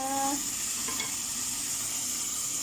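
Sautéing in a pan with fish sauce, a steady broadband sizzle throughout with a brief tonal sound at the start, nothing else over it.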